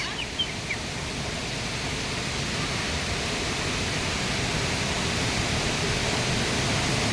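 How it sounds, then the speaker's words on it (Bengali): Steady roar of a waterfall near a single root bridge in Meghalaya, a dense, even rush of falling water filling the whole clip with no break, loud and close, with a few faint bird chirps early on. "ঝর্ণার আওয়াজে কথাই শোনা যাবে না কিচ্ছু।"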